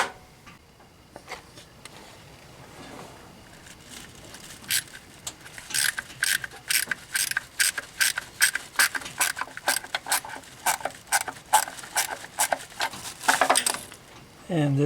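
Ratchet work loosening bolts on the engine cover of a Ford F150 with the 300 cubic inch inline-six: a run of quick, close metallic clicks and clinks in bursts, with some talking at the start.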